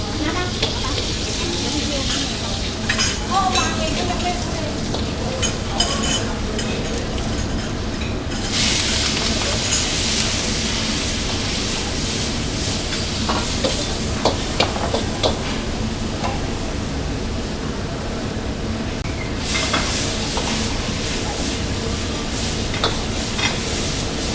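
Cafe cook stir-frying in a pan in a Thai department-store cafe, with continuous loud sizzling and scraping, a hiss that swells in two long bursts, and voices murmuring now and then under the cooking noise.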